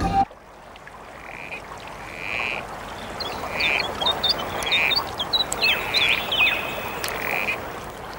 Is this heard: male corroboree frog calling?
yes